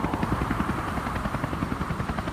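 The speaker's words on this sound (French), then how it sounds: "Le cargo, c'est comme cela qu'entre eux, ils appellent l'hélicoptère." A helicopter's rotor beats in a loud, steady, rapid chop close by, alone and continuous throughout.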